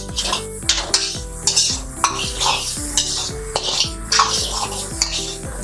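Broccoli, mushroom and sweet corn tossed and fried in a pan, metal utensil clanking and scraping repeatedly in quick rhythm over a light sizzle, close up with a faint tonal background hum.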